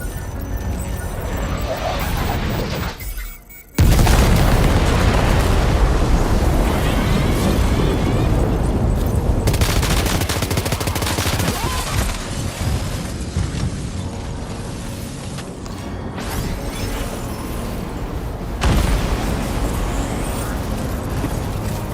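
Weapons fire and explosions in a video game: after a short lull, a huge blast erupts and rolls into continuous heavy booms, rumbling and crackling bursts, loud and dense throughout.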